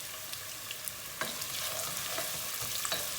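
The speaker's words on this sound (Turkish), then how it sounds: "Sarımsaklar rengini atmaya başladığı gibi soğanını ilave ediyoruz." Garlic and onions sauté in a pan for a minced meat and potato dish, a faint continuous sizzle broken by light stirring taps.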